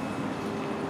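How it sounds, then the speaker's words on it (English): A passing train gives a brief, steady broadband rumble that stays loud and even throughout the short moment. "And that was my train."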